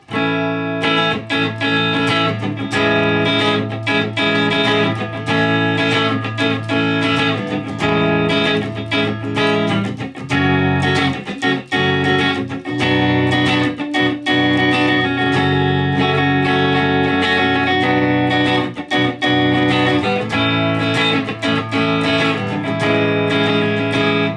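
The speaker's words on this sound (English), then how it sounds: "I'm going to take the reverb off, just play like, just some basic chords" Electric guitar strumming basic steady chords through a Blues Cube amplifier, dry and clean with no reverb tail, continuous and fairly loud throughout.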